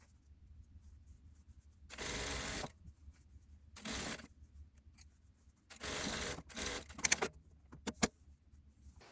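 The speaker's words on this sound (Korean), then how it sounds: "쭉 둘러가면서 박음질 하고요" A sewing machine stitches around a trouser leg in short bursts: several quick runs of whirring, about half a second to a second each, split by quiet pauses and ending in a few sharp clicks.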